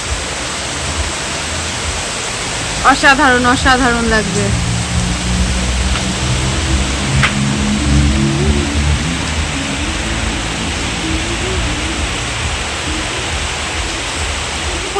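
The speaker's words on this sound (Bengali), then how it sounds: "এক ফোঁটা বৃষ্টি আমার হাতে পড়েছে, আর কেমন লাগছে বৃষ্টির ফোঁটাটা দেখো" Steady rain falls on a balcony as a constant close hiss throughout, while a person speaks briefly early on.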